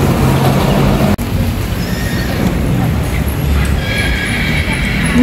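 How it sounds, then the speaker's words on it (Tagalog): A horse whinnies amid loud, continuous outdoor crowd and traffic noise in Baguio City, Philippines, with a faint clatter of hooves in the busy background. "Naririnig ko na yung ganyan ng kabayo oh."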